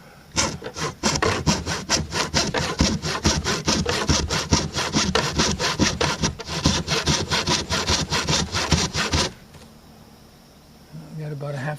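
Hand saw cutting through wood in a very small workshop, rapid rhythmic back-and-forth rasping strokes, close and loud, stopping abruptly near the end into quiet room noise.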